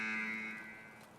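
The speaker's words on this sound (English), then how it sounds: "Must be nice not having to listen to the alarm" A buzzing alarm in the Escape From Tarkov hideout sounds as one sustained, harmonically rich electronic tone that fades gradually over about a second, heard alone without voices.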